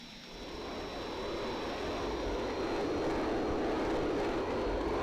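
An Allison TF41-A-2 non-afterburning turbofan on a Vought A-7 Corsair II in a flight simulator spools up, a steady broadband roar with a faint high whine that gradually swells in loudness.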